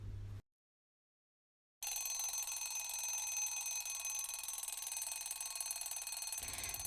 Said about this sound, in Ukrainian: Наш годинник дзеленчить, скоромовку кличе вчить.